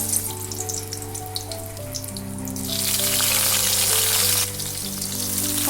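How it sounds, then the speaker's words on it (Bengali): Dry fruits frying in a pan for semolina kheer with khoa, a steady close sizzle that swells louder midway, with musical tones playing underneath throughout. "তার আগে ড্রাই ফ্রুটগুলো আমি একটু ভেজে নেব।"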